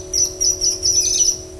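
Bird whistle effect from the toy counter of a Mighty Wurlitzer theatre pipe organ, sounding as bright, repeated warbling chirps in short bursts over a steady sustained organ tone.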